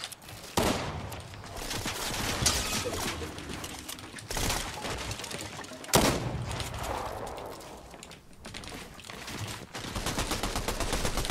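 Gunfire in Fortnite, dense overlapping bursts and cracks over a busy game soundscape, steady and moderately loud with several sharper shots standing out.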